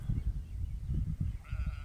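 Sheep bleat close by on a farm as lambing season approaches, several overlapping calls rising and falling in quick succession with no talk.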